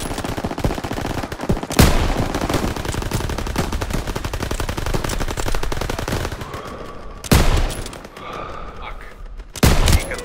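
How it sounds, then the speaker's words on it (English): Rapid machine gun bursts rattle continuously in a Call of Duty: WWII bridge battle, with heavy explosions punching through at intervals and soldiers shouting faintly beneath the gunfire. "MGs, open fire! Keep them off that bridge!"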